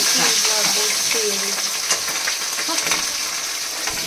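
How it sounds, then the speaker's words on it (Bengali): Fish sizzles steadily in a frying pan as tomatoes go in, a continuous close hiss with stirring clinks and scrapes, while a voice talks faintly in the background. "মাছ ভাজা হয়ে গেছে এবার টমেটো দিচ্ছে"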